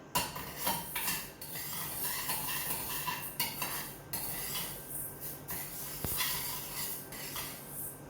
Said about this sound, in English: Make sure that you keep stirring them all the time so they do not burn